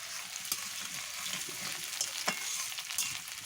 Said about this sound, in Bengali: দিয়ে দিলাম আমি কেটে রাখা আলুগুলো। আলুগুলো আমি একটু ভাজা ভাজা করে নেব।